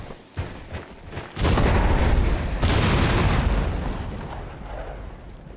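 Repeated explosions in the tactical shooter Rainbow Six Siege, likely C4 or grenades: a couple of sharp early blasts, then a long, loud rumbling detonation with a second burst that slowly fades.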